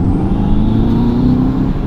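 Steady low engine drone from inside a Subaru WRX fitted with an STI transmission swap, cruising through short gears with an even hum and no clear shift break in this short stretch.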